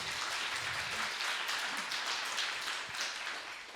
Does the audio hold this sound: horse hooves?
no